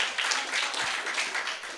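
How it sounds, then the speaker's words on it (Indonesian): Audience clapping at a small celebration gathering for an online Islamic study team, a steady patter of many hands that holds evenly for about two seconds. "Kita tepuk tangan dulu."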